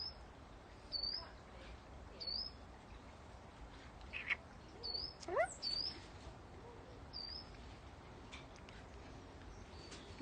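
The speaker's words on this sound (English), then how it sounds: "Lots of cheapy little birds today." Small birds chirp in short, scattered calls on a spring day in a Yorkshire outdoor setting, a few near bright chirps against a steady background hiss, with no talk over them.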